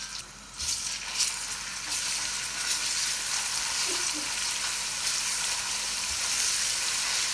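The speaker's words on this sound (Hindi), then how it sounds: "सबसे पहले हम 1 कप ऑयल डाल देते हैं। गार्लिक एंड जिंजर डालेंगे।" Garlic and ginger fry in hot oil, a loud, even, hissing sizzle that holds steady throughout, with a few faint knocks at the start.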